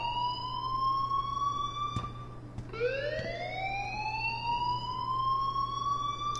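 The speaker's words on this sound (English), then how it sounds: "please turn off that alarm" A school alarm in Life Is Strange wails steadily as a rising and falling electronic tone, dropping and sweeping back up midway, with a low constant hum underneath.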